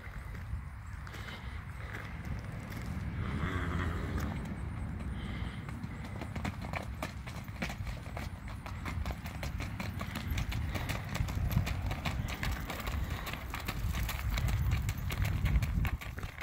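Hooves of a horse fresh from pasture, unsaddled for over a month, clip-clop steadily and close by for the whole stretch over a rumbling outdoor background.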